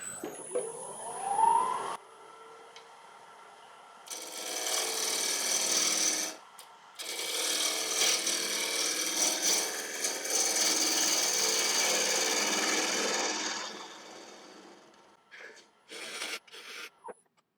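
Wood lathe turning a small burl as a tool cuts into the base, long stretches of loud, hissing, rasping cutting broken by short pauses, then several brief scraping touches near the end.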